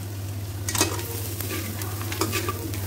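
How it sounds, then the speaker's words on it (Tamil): Chilli idly being stir-fried in a pan, with a steady sizzle and repeated scraping stir strokes close by, no talking. "இதில் இப்போ நம்ம சில்லி ஃப்ரை சில்லி இட்லியை சேர்த்துக்கலாம்."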